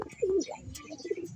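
A racing pigeon coos close by in a loft, two soft throaty rolling coos with a brief pause between them, no talk over it.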